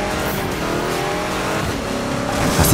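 A car in a demolition derby video game accelerates hard, its engine giving a loud, continuous revving drone that swells slightly toward the end, with no voices over it.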